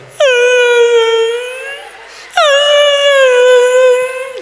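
On a comedy stage, a performer's voice imitates a hungry dog howling: two long, loud, mournful wails, each starting high, holding steady and trailing off, separated by a short pause.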